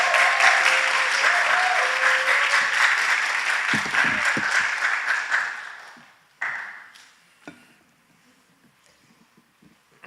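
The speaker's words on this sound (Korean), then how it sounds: "따뜻하게 박수로 맞이하겠습니다" A church congregation claps warmly to welcome a youth pastor to the pulpit, a dense burst of applause that fades out, followed by a few scattered claps and quiet room noise.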